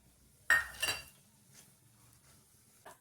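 A spoon stirs semolina roasting in ghee in a kadhai, giving two quick metallic clinks and scrapes near the start, then soft, faint stirring with one more light knock toward the end.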